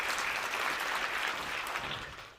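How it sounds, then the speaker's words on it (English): Steady audience applause, a dense wash of clapping that holds level and then tapers slightly at the end. "And a round of applause to the other finalists as well."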